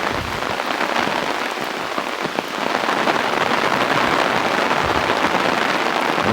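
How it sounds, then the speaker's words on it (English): Rain keeps falling hard on a June morning walk through Chester, Pennsylvania, near a library, a continuous close wash of spattering drops that swells slightly partway through, with no one speaking. "I always wanted to do a video in the rain."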